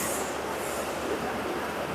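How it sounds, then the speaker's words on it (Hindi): Steady broadband rumble of trains and rail traffic at Chennai railway station, a continuous mid-distance wash of wheels and carriages with no voices. "ये देखिए चेन्नई का रेलवे स्टेशन।"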